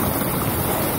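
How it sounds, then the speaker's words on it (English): Fast-flowing river water rushing through a fishway on the Tweed River at Murwillumbah, a loud, steady broadband roar with no breaks and no voices. "that is some really fast flowing water"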